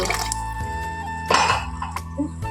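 Water poured into tamarind juice in a home kitchen, a short trickling splash lasting a couple of seconds, close and clear over a faint background hum.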